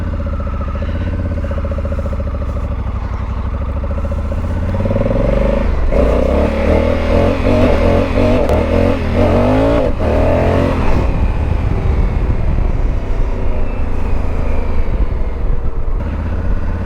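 A motorcycle engine idles and then revs hard during a wheelie test on a quiet road, climbing through rising and falling pitch sweeps, loud and close, before easing back down.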